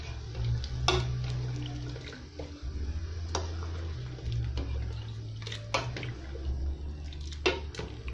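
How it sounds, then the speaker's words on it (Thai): Coconut milk poured into a cooking pot for a Thai banana-in-coconut-milk dessert, a steady liquid rush and splashing held close over a low, constant hum. "ใส่กะทิเข้าไปครั้งสุดท้ายแล้วครับ"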